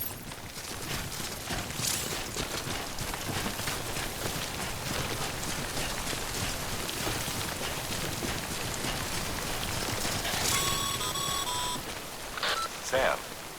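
Steady timefall rain pours throughout in the Death Stranding video game, a dense wash of drops on surfaces with a brief electronic beeping near the end.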